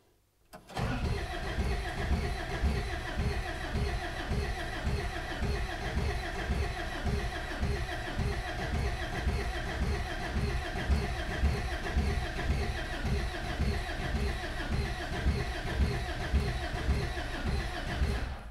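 A rusty, long-dormant Peugeot 404 classic pickup with a sticking throttle pedal is cranked by its starter motor. After a short silence come about seventeen seconds of loud, steady, rhythmic churning pulses that never catch.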